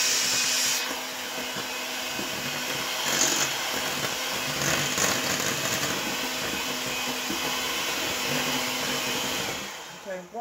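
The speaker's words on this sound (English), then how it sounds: "Now we can mix this with just a small mix master" Small electric hand mixer whirring steadily through thin, soupy popover batter at close range, a continuous buzzing drone with slight surges and no talking, cutting off at the end.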